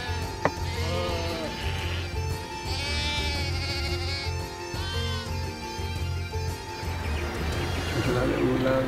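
Several sheep in Scotland bleat repeatedly, wavering cries overlapping at close range over a low rumbling background.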